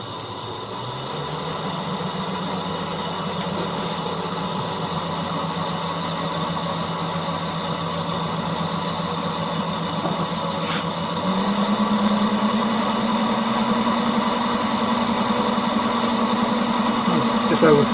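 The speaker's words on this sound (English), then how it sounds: "I'll start with a 1/2 inch bowl gouge, and we'll see how fast we can spin it" A wood lathe spins a bowl blank with a 1/2 inch bowl gouge ready, giving a steady motor hum and whine that steps up in speed partway through, close and continuous.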